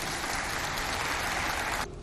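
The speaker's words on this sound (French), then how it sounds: "Applaudissez pour les Mundang aussi," Applause from a studio audience for the Mundang people at a cultural diversity show, dense and steady clapping that fills the clip before cutting off abruptly near the end.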